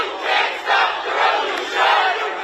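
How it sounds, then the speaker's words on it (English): Protest crowd in Louisville chanting Breonna Taylor's name in the early evening, a dense mass of voices rising and falling in steady rhythmic waves, loud and sustained throughout. "Voices chanting her name filled the air in the early evening."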